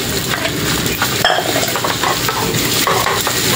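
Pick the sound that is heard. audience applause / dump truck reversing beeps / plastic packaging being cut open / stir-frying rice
stir-frying rice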